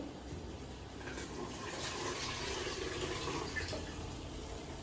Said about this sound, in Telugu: మనం ఇందులో వేసుకుందాం వాటర్